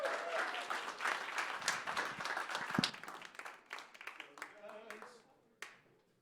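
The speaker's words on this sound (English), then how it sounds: "Let's hear a round of applause" Audience applause at a Bushwick Book Club music and comedy night in Orange, greeting a performer: dense, steady clapping that thins out after a few seconds, with voices and some scattered claps near the end.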